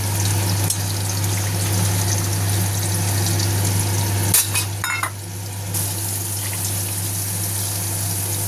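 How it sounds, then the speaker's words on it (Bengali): Water poured into a pot of boiled, mashed dal for a thick Bengali dal, a steady bubbling, sizzling wash with a sharp clatter and stirring partway through, close and fairly loud, no talking. "এবার আমি এতে জল দিয়ে দেবো"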